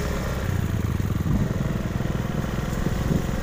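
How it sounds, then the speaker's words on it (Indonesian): A motorcycle engine runs nearby with a rapid, uneven putter, the chugging rising slightly as it revs, steady and fairly loud with no talk over it. "kita pakai motor aja dulu lah."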